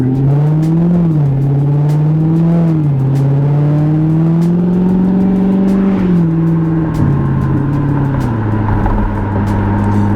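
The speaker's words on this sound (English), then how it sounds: "even though you have the aftermarket exhaust that's pretty loud" A 2017 Corvette Grand Sport's loud aftermarket exhaust drones steadily and close, its engine pitch rising and falling as it shifts through gears, with no talking.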